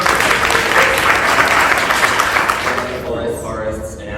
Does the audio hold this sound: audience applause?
yes